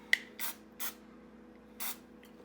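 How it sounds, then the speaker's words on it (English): A small click, then three short hissing bursts from an aerosol cooking spray can, close by in a quiet room. "I have some cooking spray, and I'm just going to lightly spray it"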